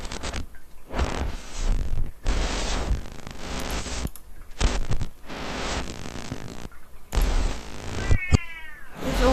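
A cat gives a run of repeated, drawn-out meows separated by short pauses, close and fairly loud, with a higher rising call near the end and no talk.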